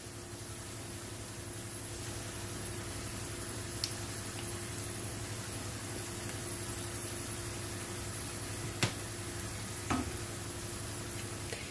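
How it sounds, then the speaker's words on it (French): Fresh cheese is stirred into a frying pan as puff-pastry filling cooks: a soft, continuous sizzle with a steady hum underneath and a few faint scrapes or clicks along the way. "Et je vais bien mélanger."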